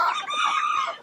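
Bantam chickens cluck and call in a backyard chicken run, a close, bright burst of clucking vocalizations lasting about a second.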